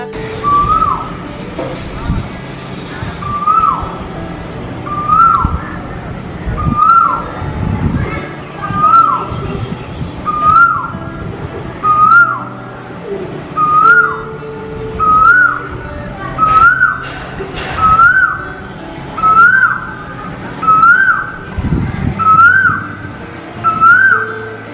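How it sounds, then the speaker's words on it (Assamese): An Asian koel calls in spring in Morigaon, Assam, repeating a rising whistled note at a steady rhythm of about one call every second and a half, clear and fairly close above a low background of voices and distant activity. "আকাশ বতাহ কুলিৰ মৌ বৰষা মাতেৰে আমোল মোলাই"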